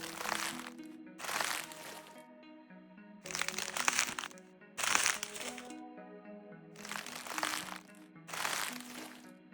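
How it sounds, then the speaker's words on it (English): A designed ice-forming effect for an ice attack, made with pitch shifting, compression and chorus. It comes as six separate crackling, crunching bursts with a tonal shimmer, each about a second long, spaced with short gaps, crisp and fairly quiet. "Ice forming was one of the more simple sounds for this effect."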